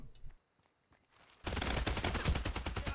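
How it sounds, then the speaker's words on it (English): Rapid automatic fire from a modified UMP in the shooter game Hired Ops bursts in after a quiet moment and continues as a loud, dense stream of shots. "It's the same ump I was using before, but his seems to be modified, so let's give it a shot."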